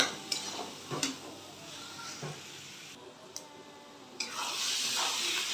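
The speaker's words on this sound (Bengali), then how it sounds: "একেবারে নেড়ে চেড়ে ভালো করে নরম হতে দেবো" Vegetables cooked down with tomato, onion, garlic and chili for pav bhaji are stirred in a pan, giving a few scraping, clattering strokes over a soft background sizzle, with a brighter hiss rising near the end.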